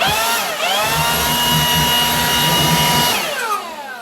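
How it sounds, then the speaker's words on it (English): A leaf blower aimed at a Black Widow spider spins up with a rising whine, holds a loud, steady rushing roar for a few seconds, then winds down, close to the microphone with no talking. "I'm gonna blow it off with my leaf blower here"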